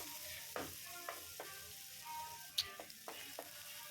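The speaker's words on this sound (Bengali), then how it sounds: "আলুগুলোকে ভাজা ভাজা করে নিচ্ছি দেখো আদার সাথে" Small diced potatoes fry with ginger in a pan for sago pulao, giving a quiet, steady sizzle broken by a few soft clicks and scrapes of stirring.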